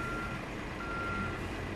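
Steady electronic reversing beeps from a B-triple road train backing up in Euro Truck Simulator 2, sounding continuously over a low engine rumble, with no talking.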